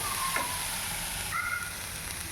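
Radish stir-fry in a pan mixed with chilli powder and salt, a steady close sizzle with a couple of light scraping stirs of the spatula.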